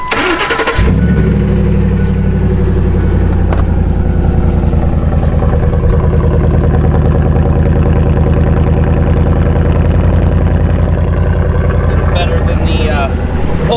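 A vehicle engine fitted with a new exhaust rumbles steadily at idle from start to finish, a deep, loud and continuous low-pitched drone with a throaty exhaust note.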